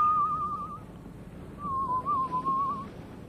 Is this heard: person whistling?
yes